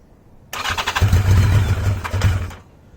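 Cold 1982 Yamaha XJ750 motorcycle starting on choke: a brief cranking burst catches into a loud, close, rough running engine for about two seconds before dying away.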